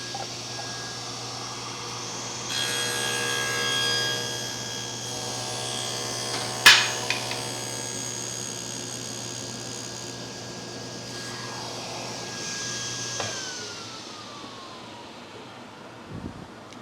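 A power saw cutting a rabbet joint in wood hums with a steady, high motor whine that holds for about ten seconds, a sharp bite partway through, then winds down toward the end; no talk.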